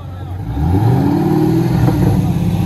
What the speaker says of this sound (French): on a un V8 qui sonne, qui est monstrueux